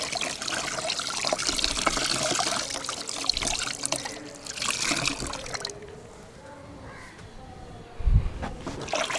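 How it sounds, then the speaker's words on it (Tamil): Water trickles and drips from a lightly wrung cotton saree, a steady wet splatter that fades after several seconds, followed by a brief low thump. "இப்படி லைட்டாக புழிஞ்சால் போதும்."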